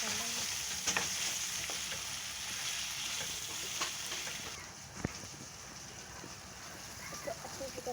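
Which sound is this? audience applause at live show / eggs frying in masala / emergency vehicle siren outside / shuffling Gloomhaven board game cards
eggs frying in masala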